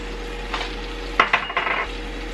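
Garlic and diced jalapeno sizzle in melted butter in a pot, a soft steady hiss with a few brief scraping stirs near the middle, close and fairly quiet, no voices.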